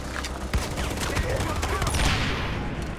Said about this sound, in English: I've got the machine gun!